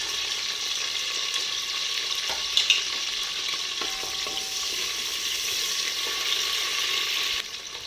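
Chopped onion frying in oil inside a pressure cooker, a steady close sizzle running throughout with a couple of brief clinks and stirring scrapes, no voices.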